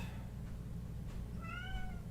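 A cat in The Sinking City video game gives one drawn-out meow near the end, fairly close and clear over low steady background ambience.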